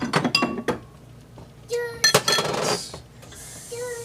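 Dishes and spoons clink sharply as low-carb butternut squash mac and cheese is served into small bowls, a few close, ringing knocks in quick clusters.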